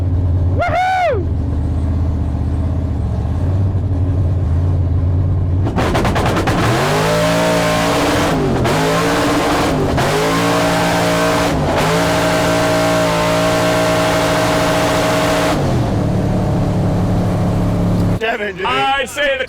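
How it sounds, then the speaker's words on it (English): A drag race car with a slightly slipping clutch idles loudly up close, then revs hard and accelerates through several gear changes, its engine pitch climbing repeatedly in strong sweeps before cutting off. "Time to go drag racing."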